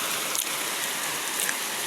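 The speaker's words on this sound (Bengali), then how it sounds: "শীতের মধ্যে বৃষ্টি শুরু হয়ে গেছে।" Winter rain of the year's first shower falls steadily and evenly, a dense close hiss of drops with no talking.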